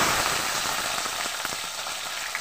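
Flat beans, each cut in half, frying in hot oil; a steady, close hiss of sizzling runs evenly through the clip, with no voices.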